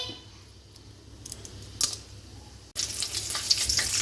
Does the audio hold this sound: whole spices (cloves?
yes